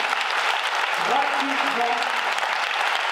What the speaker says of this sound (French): je vous invite à applaudir Sandy qui a monté cette chorégraphie gratuitement